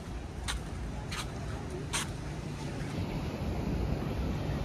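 Sea waves wash onto Malpe beach near Udupi in a steady surf roar, mixed with gusty wind buffeting the microphone and a few sharp splashes early on.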